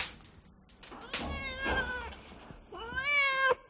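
A domestic cat meows several times in a 1975 French film scene, drawn-out wavering cries separated by brief pauses, the last one long and rising, fairly close and clear with no talk over it.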